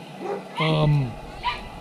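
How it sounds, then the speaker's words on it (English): A dog in Varanasi, India gives a brief, drawn-out whining yelp with a falling pitch, followed by a shorter second whimper, fairly close and mixed with faint background voices. "And doggy ain't happy with me."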